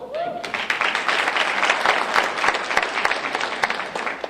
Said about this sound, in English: could you stand up? Give him a round of applause.